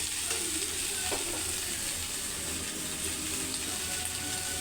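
Boiled vegetables being mixed and stirred in a pan over the heat, a steady close sizzle with a couple of soft utensil scrapes, no talking.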